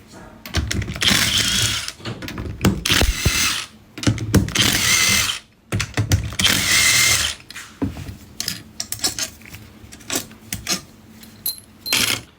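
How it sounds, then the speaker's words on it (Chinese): A ratchet or power tool unscrews the large bolts on a Mercedes-Benz M274 alternator, coming in loud, close bursts of whirring and clicking separated by short pauses. "下面拆下这4颗大螺丝"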